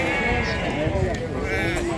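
Sheep and lambs bleat at a livestock market in Beylagan, wavering cries overlapping under steady nearby talk and crowd bustle.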